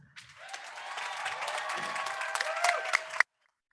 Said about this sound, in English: I would like to begin by giving them, the class of 2022, a rounding